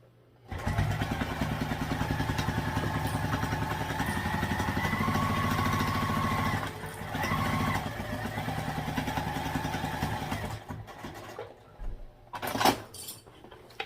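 A sewing machine top stitches along the edge of a fabric bag, running in one steady mechanical hum with a rapid needle beat for about ten seconds before stopping, followed by a few soft handling clunks.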